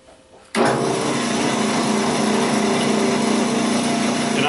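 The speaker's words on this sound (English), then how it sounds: "I'm drilling out the hole with a 3/4 inch Forstner bit" A drill spinning a 3/4 inch Forstner bit through wood to bore a ring hole, starting abruptly and then holding a steady loud whirring grind nearby.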